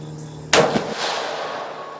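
A single loud, close gunshot from a PSA M91/24 Carcano carbine firing PPU ammunition, a sharp crack followed by a long rolling echo that fades over the next second and a half outdoors.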